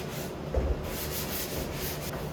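Steady rhythmic rasping of sandpaper rubbed by hand back and forth over a wooden pantry door, close up and continuous, with no voices.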